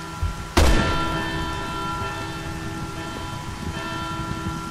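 A bell tower in the video game Resident Evil 6 strikes once with a sharp, loud clang, its long ringing tone decaying slowly over several seconds against a steady background of rain-like noise.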